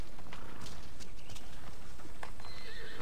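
Horse hooves clattering with a whinny in Assassin's Creed Odyssey, loud dense clip-clop over a busy game soundscape, with a neigh rising near the end.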